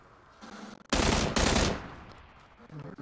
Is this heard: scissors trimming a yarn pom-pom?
no